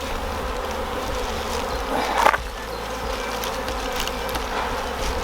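Honeybees buzz around hive frames in a steady, close drone, with a brief knock or scrape partway through.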